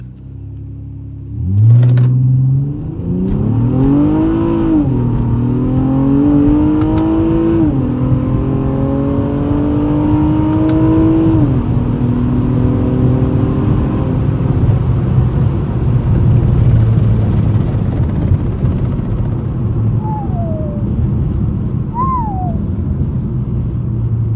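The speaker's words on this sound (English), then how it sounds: "We're gonna start it back up, rev it to 1200." A Honda Accord coupe V6 on a Ktuner base map revs and then accelerates hard, its engine note climbing loud and close in repeated surges before settling into a steady drone. A brief higher tone chirps near the end.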